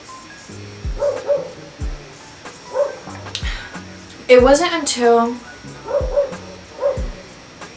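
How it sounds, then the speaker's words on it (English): A dog barks and whines in the background of a room while a person talks over it, short yips and a longer whimpering burst recurring throughout. "My dog is barking."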